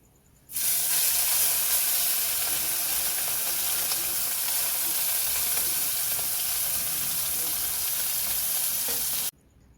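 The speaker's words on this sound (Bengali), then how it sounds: "কিভাবে সব মাছগুলো ভেজে নেব" Small chuno fish fry in a pan with a loud, continuous hissing sizzle that starts abruptly, holds steady for about nine seconds, then cuts off, with no talking.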